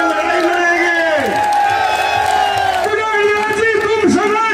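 Loud crowd at an election rally during a nomination filing in Taranagar, with sustained cheering, whoops and clapping, a voice or chant rising above the din throughout.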